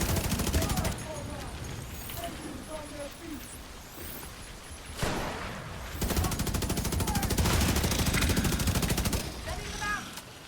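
Gunfire from a sniper rifle in a video game, mixed with other shooting and clattering game effects. Loud bursts come in two dense stretches around a calmer middle, and voices can be heard talking over the noise.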